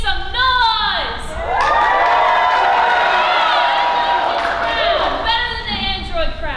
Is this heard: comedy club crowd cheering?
yes